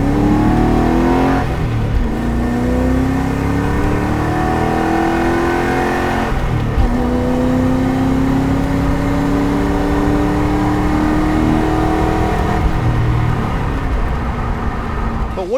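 A 1994-1998 Ford Mustang GT V8 with a stainless steel catback exhaust rises and falls through repeated rising revs, deep and throaty, loud and close, with no talking.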